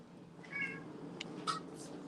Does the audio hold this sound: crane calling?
no